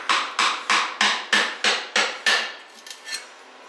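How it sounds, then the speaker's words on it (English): A putty knife is tapped and driven into a 1968 Pontiac GTO drivetrain part to pry it open: eight sharp, evenly spaced metallic strikes, close and loud, then a couple of softer knocks. "I don't know if I can pry it open with the putty knife or not, but we'll try."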